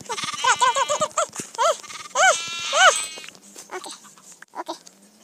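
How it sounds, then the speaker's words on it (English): Sheep in Minecraft Pocket Edition survival mode bleat in a quick series of wavering calls, several close together, then fewer and fainter ones trailing off. "Hey, Mr. Sheep, I'm not Jack"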